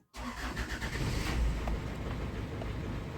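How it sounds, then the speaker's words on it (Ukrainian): A 2008 Hyundai Tucson engine cranks and catches after a brief silence, then settles into a steady, loud idle rumble close to the microphone. "Так, пробуємо завести машину. Так, заводимо автомобіль."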